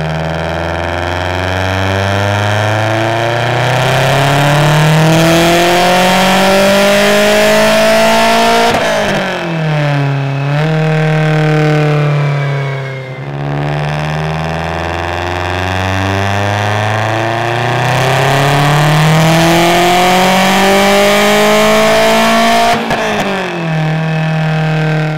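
A Subaru Impreza WRX STI engine on a dyno revs hard and loud, climbing steadily in two long sweeps, each ending in a sharp drop before building again.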